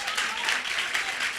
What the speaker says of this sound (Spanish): Denle un nuevo aplauso.